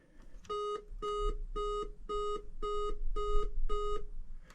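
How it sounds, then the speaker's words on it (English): Seven evenly spaced electronic beeps from a Centipede arcade board signalling a RAM fault, each a steady harmonic tone lasting about half a second, close and clear over a low hum. "Seven beeps."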